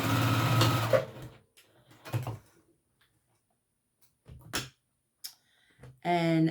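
A sewing machine stitches fabric at a small stitch length in short bursts between stretches of quiet, with a person talking before and after the stitching.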